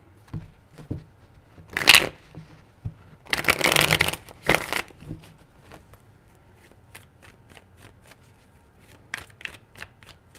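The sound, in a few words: shuffling tarot cards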